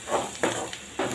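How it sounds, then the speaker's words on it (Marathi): Turmeric and garam masala stirred into a curry in a pan, three short scraping strokes of a spoon against the pan, close and alone. "थोडीशी हळद आणि गरम मसाला 1 चम्मच। सर्व साहित्य आपण छान फिरवून घेऊ"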